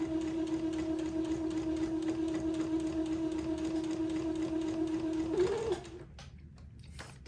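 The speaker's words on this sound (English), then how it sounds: "I'm going to sew this fancy lace panel to my little batiste strip that I just hand embroidered" A sewing machine runs steadily for about five and a half seconds, stitching a fancy lace panel onto a hand-embroidered batiste strip, then stops abruptly and leaves quiet handling noise.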